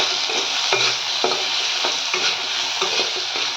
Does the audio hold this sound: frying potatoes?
yes